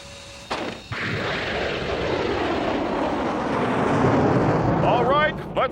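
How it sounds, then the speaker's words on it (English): Military jet engines on a formation display aircraft roar steadily and loudly after a sharp initial thump, with a broad whooshing rumble that swells slightly toward the end. "These engines have a much different sound than our T4 engines do."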